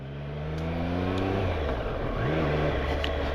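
A 2023 Triumph Street Triple RS motorcycle accelerates onto a fast road, its engine rising steadily in pitch through a gear, loud and close, with wind rush building underneath.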